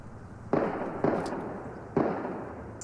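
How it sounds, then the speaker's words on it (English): Three sharp gunshot pops from news footage of a bank shooting in downtown Louisville, each a sudden crack with a short decaying tail, spaced irregularly over a few seconds at moderate loudness. "gunshots still popping as police stormed the bank in downtown Louisville"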